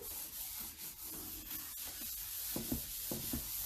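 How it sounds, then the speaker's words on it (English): Wax being rubbed by hand into a stained wooden cross frame, a close, soft dry scrubbing with repeated short strokes and faint hiss, heard alone. "And I'm just rubbing that wax in."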